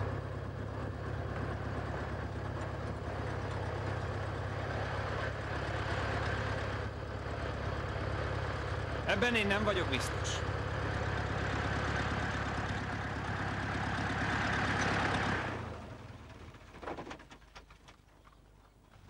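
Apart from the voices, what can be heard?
car engine left running while idling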